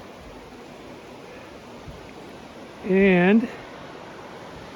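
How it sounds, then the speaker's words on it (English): The Ten Mile River flows under a bridge on a hazy day along the Appalachian Trail, a steady broadband rush of water heard from above, briefly interrupted by a single spoken word. "This is the 10-mile river as it flows under the bridge that I'm currently on"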